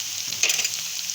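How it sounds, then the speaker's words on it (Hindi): Chopped onions frying in oil in a pan for a kidney bean and black-eyed pea curry, a steady close hiss of sizzling with a slight swell in the middle, no voices. "से इसको फ्राई करते हैं कि इसका कलर चेंज होने लग जाए।"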